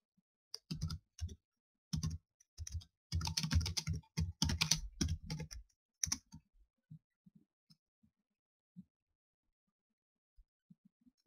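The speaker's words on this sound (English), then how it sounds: "He's typing." Computer keyboard typing during a Minecraft multiplayer survival game comes in quick, quiet bursts of clicks with short pauses, trailing off into a few sparse taps.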